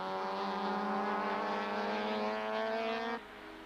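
Touring cars race past at Kyalami circuit in a 1995 South African Super Touring Championship round, a strong steady engine whine from one car held for about three seconds before cutting off abruptly, with no voices.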